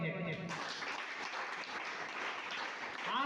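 Audience applause breaks out after a brief spoken moment and carries on as dense, steady clapping from a hall crowd at a Guru Purnima gathering at Vidyalankar Bhavan, Shelewadi.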